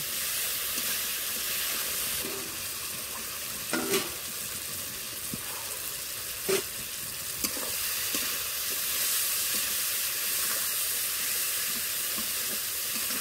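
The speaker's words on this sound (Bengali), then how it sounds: "ভেজে রাখা আলু দিয়েও বেশ কিছুক্ষণ কষে নেব।" Fried potatoes sizzle in a pan of spiced oil for aloo matar paneer, a steady close hiss. A few soft clinks of stirring come now and then.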